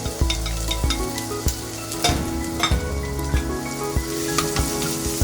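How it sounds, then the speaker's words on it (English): Chopped white onion frying in a pan for pumpkin soup, loud close crackling sizzle with repeated sharp clinks and scrapes of a utensil stirring, under a steady low hum, no voices. "Next I am going to add 1 chopped white onion into it."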